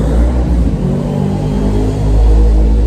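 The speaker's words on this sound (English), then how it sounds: "loud bikes and everything around here, loud cars" Loud cars and motorbikes rumble close by in a street in England, a deep, continuous engine roar that swells toward the end.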